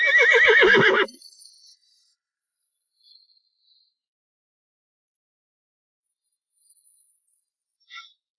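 A horse lets out one loud, shaky whinny, then near silence follows with only a few faint, scattered sounds.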